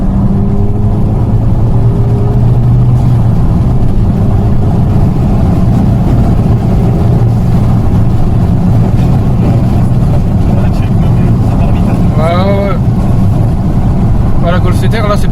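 A Volkswagen Golf, a Golf 7R ABT or Golf 5 GTI, accelerates with a loud, steady engine drone and road roar heard from inside the car. The pitch rises gradually, and a voice speaks over it now and then.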